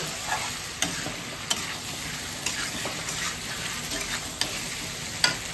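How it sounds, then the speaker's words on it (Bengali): Ground spice paste fries in a pan for a paneer dish, giving a steady close sizzle broken by regular clicks and scrapes of a spoon stirring it, with no talk. "এবার অনেকটা কষাতে হবে"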